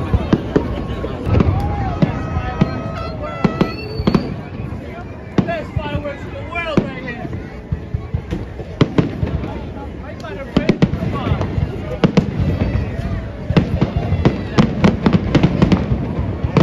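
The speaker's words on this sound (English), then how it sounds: "But anyway, get ready to see some beautiful fireworks." Fourth of July fireworks pop and crackle in rapid scattered bursts throughout, loud and dense, with people talking and murmuring over the display.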